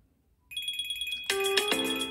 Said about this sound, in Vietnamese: bên điện thoại này nó cũng kêu và ở trên cái đồng hồ này nó cũng sẽ kêu